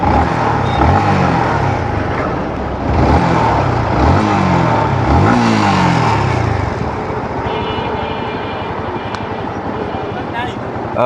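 A used motorbike engine runs steadily and fairly loud at close range, with rising and falling revs, while people talk over it.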